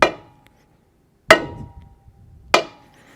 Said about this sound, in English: You can use the brass hammer itself if you want